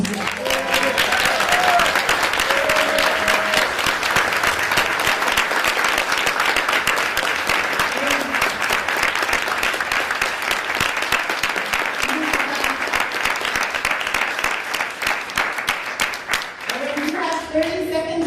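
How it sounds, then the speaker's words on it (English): An audience at a Shakespeare at San Quentin Q&A session claps in sustained, loud applause that keeps up for a long stretch, then thins out near the end with a few voices. "I would love to give him a round of applause"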